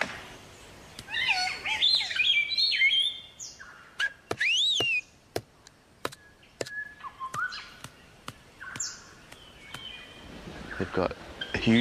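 A black cockatoo gives varied whistling and screeching display calls in an Australian forest, with a run of sharp clicks or knocks. The calls come at moderate distance and fade in and out.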